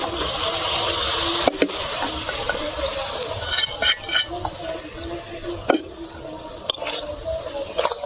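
Fried flattened rice being stirred through thick, cooked-down jaggery in a pan, making a steady close-up scraping rustle broken by a few sharp utensil clicks against the metal, with no talking.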